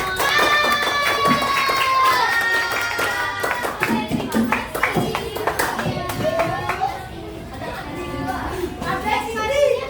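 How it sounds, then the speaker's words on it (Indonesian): Schoolchildren in a classroom clap for a student group during a teaching practice session, a burst of scattered close hand claps mixed with chatter and a teacher speaking briefly. "Oke, beri tepuk tangan untuk kelompok"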